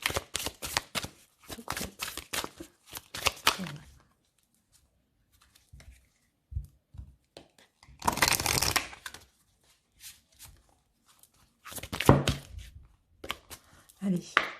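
Oracle cards are shuffled and drawn in several quick, close bursts of crisp riffling and flicking, separated by quiet gaps and soft talk.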